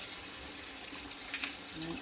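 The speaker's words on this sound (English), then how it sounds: "start filling up the sink with cold water" Cold water runs into a stoppered kitchen sink, a steady soft hiss of filling under faint background noise.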